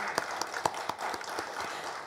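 A church congregation claps in praise during a Sunday evening worship service, sounding like faint, scattered handclaps with a few sharper individual claps over a low room murmur.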